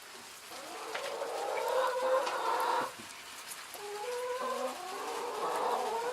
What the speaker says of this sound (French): J'entends que les poules.